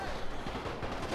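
World War I infantry units firing rifles in a Total War mod battle, a dense, continuous crackle of overlapping shots at moderate distance.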